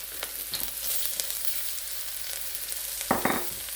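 Ginger and garlic frying in oil in a pan for Mongolian beef, a soft continuous sizzle with a couple of sharper stirring clatters near the end.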